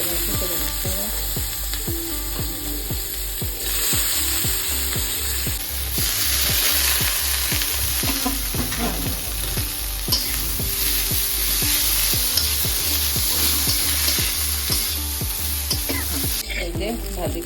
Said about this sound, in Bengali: চিংড়িটা একটু ভালো করে ভাজি, রসুন দিয়ে দিলাম।